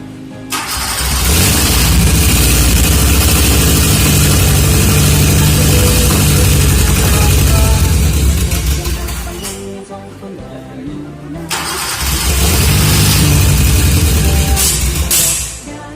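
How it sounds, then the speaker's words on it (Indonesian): A Toyota Kijang 5K car engine starts and runs loud and steady at close range, dips briefly, then roars back up before fading near the end. "pas sekali lagi kita akan hidupkan mesin ini"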